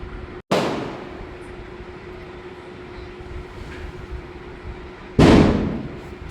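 Two sharp Diwali firecracker blasts, one early and one near the end, each a loud crack with a decaying rumble, over a steady low hum of background noise.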